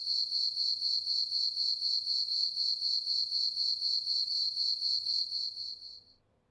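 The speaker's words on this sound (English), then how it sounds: "We listening to crickets." Steady, rapid cricket chirping, loud and continuous with a fast pulsing rhythm, fading out at the very end. No voices.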